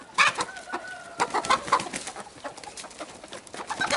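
A rooster clucks and calls among other chickens in a lively farmyard, with bursty, moderately loud bird vocalizations over a constant background of scratching and rustling.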